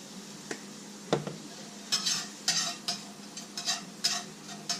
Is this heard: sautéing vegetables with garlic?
yes